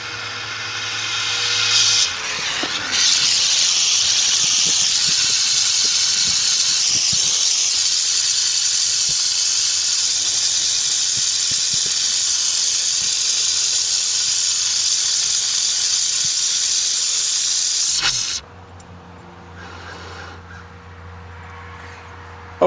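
A torch blasts good heat onto a test gold button to melt it during ceramic CPU gold refining, a loud, steady roaring hiss that runs for about sixteen seconds before cutting off abruptly, leaving a quiet background.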